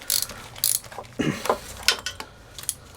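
A spanner works loose the elongated nuts on a Yamaha XJ400Z motorcycle, giving a series of sharp metallic clicks and clanks at an irregular rhythm, close by.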